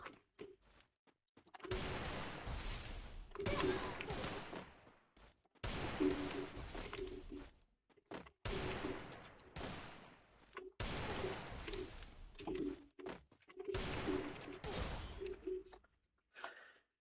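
Gunfire in the Free Fire video game comes in several dense bursts of rapid shots, each lasting a second or two, separated by short quiet gaps, with a steady mid-range tone running under the bursts.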